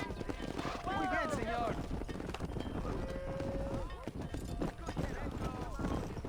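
Horse hooves clip-clop steadily while cattle moo during a cattle-herding ride in the Red Dead Redemption video game, a busy in-game mix with lowing calls layered over the continuous hoofbeats.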